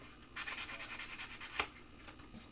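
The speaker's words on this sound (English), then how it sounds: "a spongy sandpaper. It seems to just grab all the surfaces nicely." Spongy sandpaper rubbed back and forth over a surface during finishing, a soft, close, steady scratchy swishing in repeated strokes with a brief louder scuff near the end.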